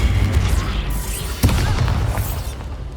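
A Bombarda explosion spell in Hogwarts Legacy erupts as a sharp, loud blast with a rumbling tail amid combat, following deep booming impacts at the start, with shouted voices around it.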